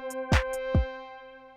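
Default synth pad from the Harmless plugin in FL Studio, a sustained harmonic tone with stereo movement, broken by two short percussive thumps, moderately loud and alone.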